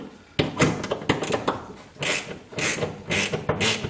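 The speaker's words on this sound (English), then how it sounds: "So the best way is to back it off, get some of the crud out of the threads, continue to loosen it" Ratcheting clicks and creaks from a wrench loosening a stuck bolt on the rear bumper of a 1976 Corvette, arriving in repeated close bursts of strokes with short pauses between, and no talk.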